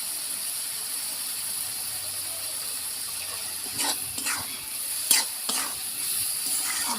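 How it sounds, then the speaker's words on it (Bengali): Vegetables with potato, Kashmiri chilli, salt and turmeric stir-fry in a pan, a steady sizzling hiss broken by a few scraping strokes of a spatula. "ভালো করে আমি কষিয়ে নেব"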